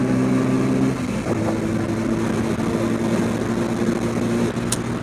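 A TVS Apache RTR 160 4V motorcycle (2025) held at top speed in ride mode, its engine droning steadily near the rev limit under heavy wind rush, continuous and loud throughout.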